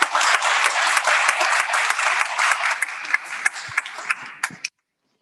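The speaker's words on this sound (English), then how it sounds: "Can we give him another rousing applause?" Audience applause for the chairman at an arbitration chapter anniversary event, a dense round of clapping that thins into scattered individual claps before stopping abruptly.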